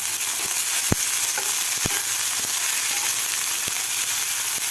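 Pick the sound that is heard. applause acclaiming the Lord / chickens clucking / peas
peas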